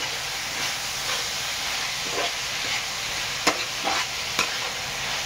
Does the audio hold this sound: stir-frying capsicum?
yes